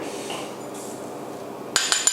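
Salt and chopped lemongrass pounded in a mortar, three sharp, bright strikes near the end following a quiet stretch of faint kitchen noise.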